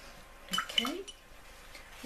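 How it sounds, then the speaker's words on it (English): A watercolor paintbrush is rinsed in a water jar, giving a brief, faint swish with a few light clinks of the brush against glass in a quiet room. "Rinse my brush off."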